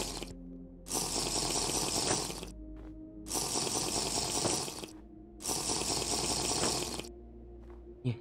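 Moving through water in the video game Minecraft: three loud, close bursts of sloshing, splashing water, each lasting a second or more, separated by short quiet gaps with faint low background tones.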